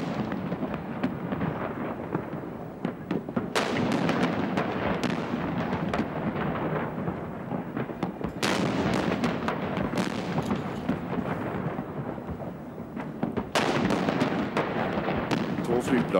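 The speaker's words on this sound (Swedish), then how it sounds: "Och 3 fartyg skjuter salut. 21 skott ekar mellan Stockholms husfasader." A 21-gun salute fired from three ships in Stockholm, with booming cannon shots echoing off city building facades at spaced intervals over a steady crowd murmur.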